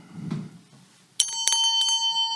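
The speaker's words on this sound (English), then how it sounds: "when you hear this bell" A bright, ringing bell strikes a few times in quick succession at an intermission, the tones lingering and shimmering after a brief soft thump.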